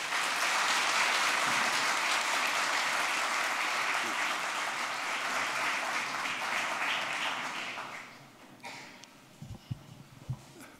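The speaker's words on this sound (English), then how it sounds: "Please join me with warm applause" A large conference audience applauds steadily for about eight seconds at a biotech forum, the broad clapping loud and dense before fading out, followed by a few scattered thumps and handling noises.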